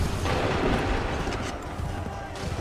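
A musket volley in Assassin's Creed 3 rolls out as a loud, sustained rumble of massed gunfire with a booming low end, a shouted voice faintly mixed in.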